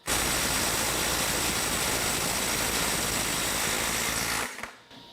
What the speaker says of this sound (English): Now let's go to the DeWalt for 300 foot-pounds.